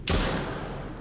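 A single loud gunshot in a horror video game, a sharp close blast followed by a decaying ring, with a few faint clicks trailing after.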